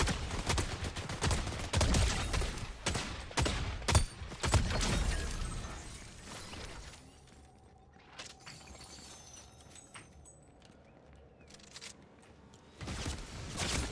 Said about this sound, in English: Where are the people shooting around us now?